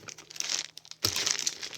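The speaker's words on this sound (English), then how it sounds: "A vinyl bedding protector for the mattress with a zipper." A vinyl zippered mattress protector crinkles and crackles as it is handled up close, in two bursts of crumpling separated by a brief pause.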